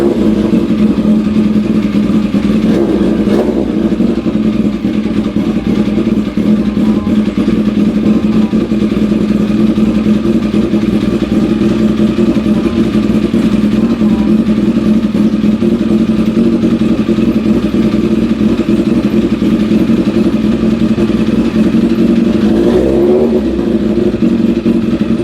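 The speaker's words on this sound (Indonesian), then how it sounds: "Kayaknya gue udah bosen ini sama suara motor begini ya." A Kawasaki ZX11 ZZR1100 motorcycle with a new aftermarket exhaust runs loud and close for a long stretch, a deep steady engine drone with brief throttle swells near the start and end.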